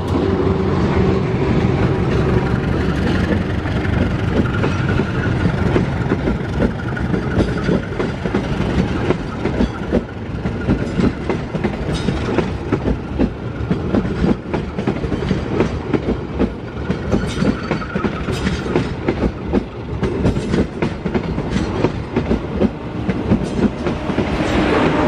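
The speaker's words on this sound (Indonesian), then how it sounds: "Kereta api" A passenger train passes close by, giving a loud, continuous rumble with rhythmic clickety-clack of the wheels over rail joints. The sound holds steady throughout the long pass.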